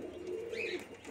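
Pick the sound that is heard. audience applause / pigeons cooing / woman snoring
pigeons cooing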